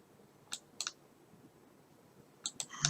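A computer mouse clicks faintly while someone edits a GIF in PhotoScape: two sharp clicks early, a pause, then a quick cluster of three more.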